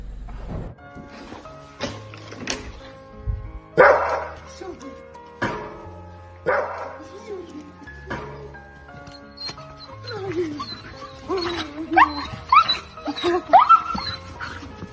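A dog reunited with its owner after six months barks in short bursts and whimpers in high, wavering whines, with excited yips near the end and a person speaking among the sounds.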